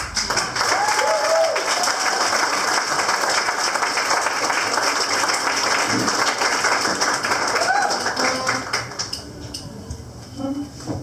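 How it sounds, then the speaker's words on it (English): Sustained audience applause after an art talk on courage, a dense crowd clapping loudly and steadily for the full stretch before thinning slightly near the end, with a few faint voices underneath. "Let's give her a round of applause."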